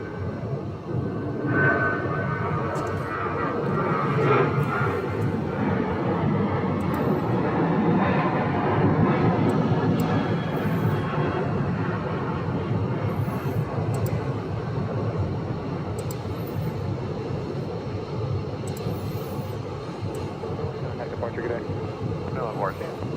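A Southwest airliner rolling down the runway at Phoenix airport, heard as a broad, distant engine roar that swells and holds for over twenty seconds, with people talking over it.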